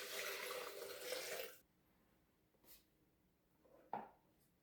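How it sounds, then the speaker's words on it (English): Cold water from the fridge pouring into a blender, a loud splashing gush for about a second and a half that cuts off, followed by a couple of faint clunks and a knock. "Pour that right into our blender"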